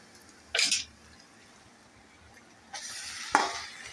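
Fresh fenugreek leaves are dropped into a pan of fried onions over medium heat, giving two brief, bright sizzling bursts a couple of seconds apart over a quiet kitchen background.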